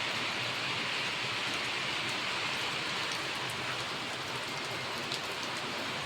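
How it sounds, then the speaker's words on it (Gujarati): Rain falls steadily outside a home, a close, continuous broadband hiss of drops striking surfaces, unbroken and even for the whole stretch, with no voices. "તો અત્યારે વરસાદ પડે છે, મારા ઘરે બેઠો છું, જોઈ શકો છો તમે।"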